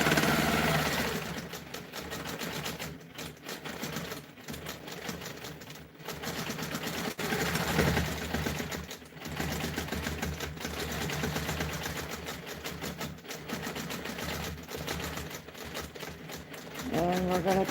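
A sewing machine stitches slowly in reverse over a continuous border, a steady mechanical whir with rapid needle ticking and brief pauses running throughout the stretch.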